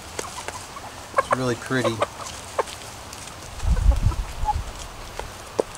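Chickens on a farm, including a stag rooster, cluck and call in short bursts around a person speaking nearby, with a low rumble partway through.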